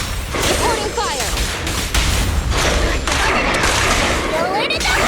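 Rapid gunfire crackles through a battle in the video game Zenless Zone Zero, dense bursts and booms layered with whooshing effects, loud and close, while voices shout over the shooting.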